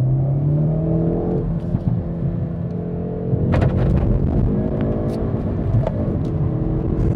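The exhaust of a 2019 Hyundai i30N Performance Fastback with 275 hp and a petrol particulate filter growls and climbs as it revs. The sound is loud and near, with rising engine tones and sharp crackles midway, and no talk.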